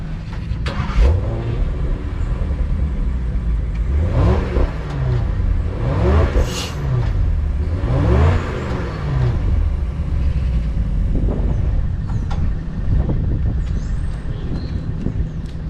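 A 2023 Range Rover P530 L460 Vogue with a 4.4 V8 on its factory exhaust system, revved repeatedly in rising and falling sweeps over a steady deep idle, close and loud with no talking.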